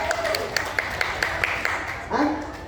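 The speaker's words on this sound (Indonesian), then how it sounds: "Tepuk tangan untuk Kak Wilda" A small audience at a gastronomy talent event in Makassar gives brief, sparse clapping, a few distinct claps over a background murmur, ending as a voice briefly starts.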